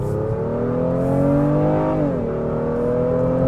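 A 2025 Honda Pilot Elite SUV accelerates in sport mode, a steady engine drone climbing in pitch, easing off briefly, then holding on, heard from inside the cabin with no talking.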